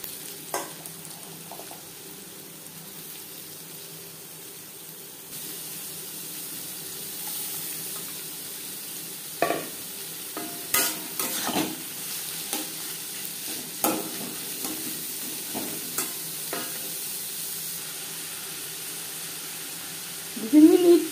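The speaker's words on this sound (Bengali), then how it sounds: "চার চামচ রিফাইন্ড অয়েল গরম করে নিয়েছি। দিয়ে দেব পেঁয়াজ কুচি।" Chopped onion fries in four spoons of hot refined oil, giving a soft continuous sizzle that grows fuller after a few seconds, broken by repeated scraping bursts from stirring in the pan.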